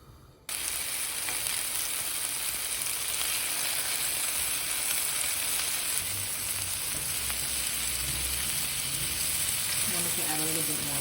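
Avocado oil heating on a griddle, a steady bright sizzle that starts abruptly and holds constant and fairly loud throughout, with faint low rumbles and clicks late on.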